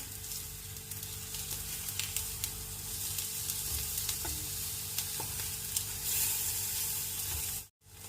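Eggplant slices shallow frying in oil in a pan give off a steady close sizzle that runs unbroken throughout, with light stirring and turning noises over it and a brief dropout near the end.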